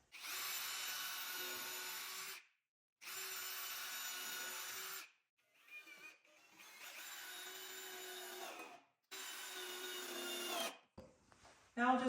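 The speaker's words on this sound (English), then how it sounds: "Now I'm going to just go ahead and pre-drill and drive screws into the end." A power drill pre-drills and drives screws into the end of a 2x4 while a beginner workbench is being built, with several sustained whirring bursts separated by short pauses and lighter handling noises between them.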